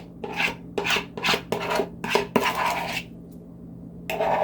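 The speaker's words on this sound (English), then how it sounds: "I'm going to scrape my bowl." Spoon or spatula scraping broccoli slaw out of a bowl, a run of short rasping strokes up close, then a pause and one more scrape at the end.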